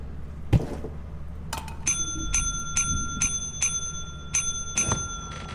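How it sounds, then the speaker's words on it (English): In the Lethal Company video game, a dropped brass bell plays a Taco Bell ding instead: a series of bright, clear chimes repeating about every half second, after a couple of thumps, with a low background hum. "So when you drop it, it makes the Taco Bell ding."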